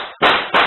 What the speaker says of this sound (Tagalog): umalingaw na ang magkakasunod na putok ng baril